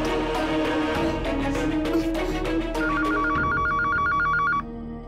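A telephone rings while a call is placed to a city hospital, repeated electronic ring bursts over a sustained musical tone, the last ring cutting off abruptly near the end.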